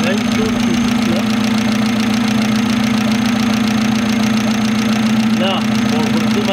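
An old wrecked Citroën Saxo engine runs at a steady, close idle with a faint rhythmic knock, while a person talks over it now and then.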